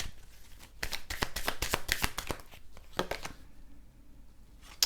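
Tarot cards are handled and shuffled in a rapid burst of crisp riffling slaps and flutters, then settle into a few softer shuffles and a final flick.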